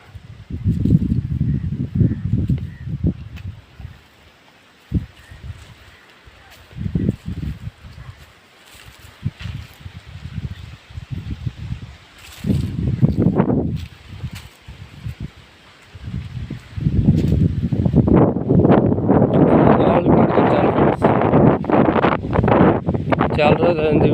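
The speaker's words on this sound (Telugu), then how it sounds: "ఇక్కడ మామిడి తోట చల్లగా గాలి తోలుతూ ఉంది." Cool wind blows through a mango grove in gusty rushes and microphone buffeting, with rustling leaves, the roar swelling loud toward the end and talking heard between gusts.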